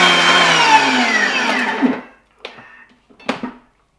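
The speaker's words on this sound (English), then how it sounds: "I am going to just smash up this bit of garlic." A blender smashing a clove of garlic for a herbed mayo, a loud steady whirring grind for about two seconds, then two short bursts as the motor is pulsed again.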